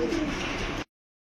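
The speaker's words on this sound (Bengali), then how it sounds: "সুন্দর কবুতরগুলো ভাই" Sirazi and racer pigeons coo in a low, steady throaty burble close by, loud and continuous for under a second before cutting off abruptly into silence.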